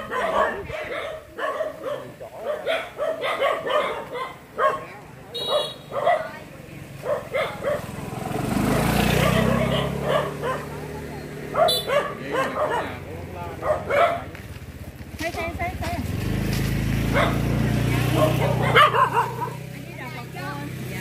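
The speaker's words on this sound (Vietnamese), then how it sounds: "Chó dữ lắm hả?" Outside a house next door, a dog barks and yips in scattered bursts, mixed in with steady chatter from several people nearby.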